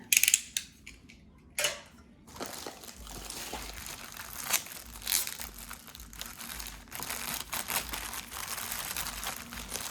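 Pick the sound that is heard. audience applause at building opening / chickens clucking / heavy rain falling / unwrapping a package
unwrapping a package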